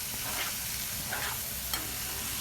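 Tomatoes drop into sizzling fried masala in a pan for Marathi-style tomato chutney, giving a loud, dense, continuous sizzle with a few soft stirring scrapes.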